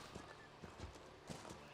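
Horse hooves clip-clopping in the game Dragon Age Inquisition, a faint, quick series of soft hoofbeats at a riding pace, heard alone without talk.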